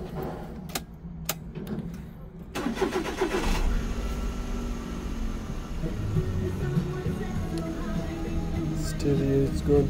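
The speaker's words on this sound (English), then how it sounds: "We'll start the engine." A Suzuki Wagon car (DA17V/DA64W) engine cranks and catches after a few clicks, then settles into a steady, close idle with a low rumble.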